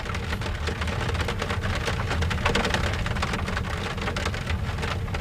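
Heavy downpour of rain, a dense, loud, continuous hiss and patter of countless drops striking a surface, steady throughout with no voices.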